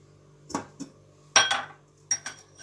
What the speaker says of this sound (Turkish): Şimdi tenceremizin kapağını kapatacağım.